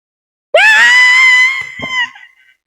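A child lets out one long, loud, high-pitched scream lasting about a second and a half, close and alone, trailing off into a shorter strained cry at the end.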